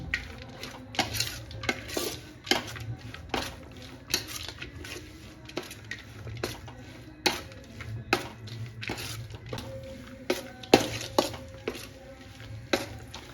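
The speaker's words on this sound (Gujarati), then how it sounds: "થોડીક વાર આપણે ઘીમાં આ રીતે શેકાવા દઈશું" Dry fruits roasting in ghee in a pan for Salampak, with repeated clinks and scrapes of a metal spoon stirring against the pot over a faint sizzle.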